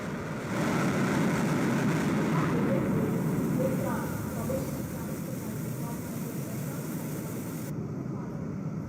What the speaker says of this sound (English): वायुसेना के विमान सलामी मंच के ऊपर से गुजर रहे हैं